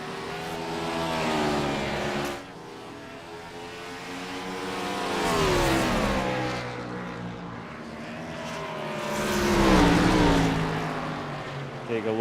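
The Pabst Blue Ribbon No. 51 race car at Sonoma Raceway drives on board, its engine rising and falling in pitch through shifts and corners, loud and close, with faint commentary underneath.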